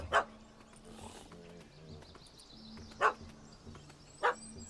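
A dog in The Witcher 3 barks three separate times, short sharp yaps spaced seconds apart at moderate distance over a low game ambience.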